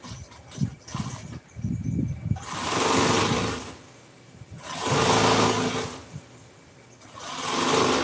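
Sewing machine stitching listing onto a 1997 Ford F-350 truck seat, a few short whirring bursts with handling clatter, then longer sustained runs of rapid stitching separated by brief pauses.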